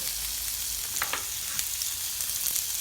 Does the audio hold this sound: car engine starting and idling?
no